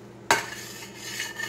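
A spatula scrapes sharply once across a pan, then keeps stirring in circles with soft, continuous scraping. The sound is close and quiet, with no voices.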